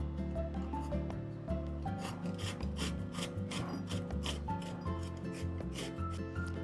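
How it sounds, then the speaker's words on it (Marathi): Raw green mangoes rubbed against a kitchen grater, a steady rasping scrape repeating in quick strokes, close and continuous, with a faint background music bed. "आता या कैऱ्या आपल्याला किसून घ्यायच्या।"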